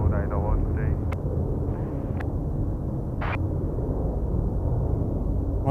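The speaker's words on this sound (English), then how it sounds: "that's the Sydney service rolling in there. There it is, the Korean 402 arriving from Sydney." Korean Air airliner arriving at Incheon from Sydney, a loud, steady roar of jet engines rolling in, held throughout with brief higher whines, while people talk over it.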